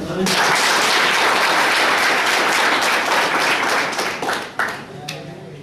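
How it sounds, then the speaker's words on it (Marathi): Workshop audience applauding indoors, a dense, loud wall of many hands clapping that holds steady for several seconds before thinning out into a few scattered claps. "स्वतःसाठी टाळ्या वाजवा."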